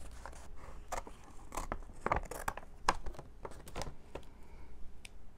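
Scissors snip through a paper bag at close range, a series of crisp, irregular cuts with light paper rustling between them.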